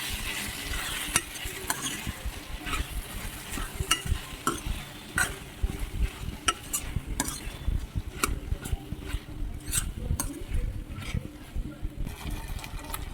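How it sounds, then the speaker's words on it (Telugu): Chopped cucumber and potato are stirred in a hot pan for a cucumber tomato curry, with a light sizzle under repeated scraping and clinking spoon strokes, close up and fairly quiet. "ఇదిగోండి, దోసకాయ బంగాళదుంప వేస్తున్నాను. వేసుకొని కలపెట్టుకోవాలండి."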